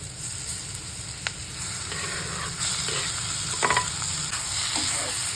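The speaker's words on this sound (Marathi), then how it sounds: "आता हे वांग चिरून ठेवलेले ते टाकायचं" Chopped eggplant with spices frying in a pan, a loud continuous sizzle close by with occasional scraping and clacks of a spoon stirring the pieces.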